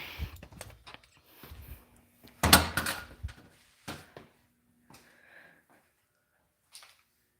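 A house door is shut with a loud wooden thump in the middle, between scattered quieter knocks, shuffles and soft handling noises in an otherwise quiet indoor room.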